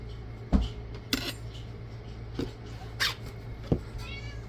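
Two cats make a few short meows and cries at irregular intervals, mixed with light clinks of dishes over a steady background hum.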